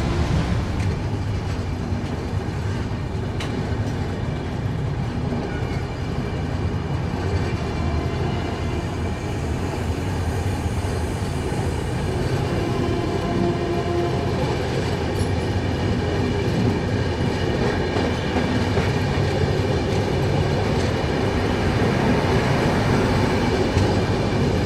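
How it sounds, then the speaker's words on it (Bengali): A passenger train pulling into Durgapur station, heard from inside the coach as a loud, steady rumble of wheels on rails with faint clatter and occasional squeal, no voices. "ট্রেন আমাদের এসে পৌঁছালো দুর্গাপুর।"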